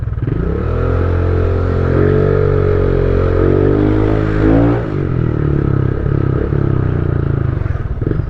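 A project motorcycle rides along with a steady, loud engine drone that rises in pitch as it accelerates, dips around a gear change, then settles back into a constant hum with wind rush and no talking.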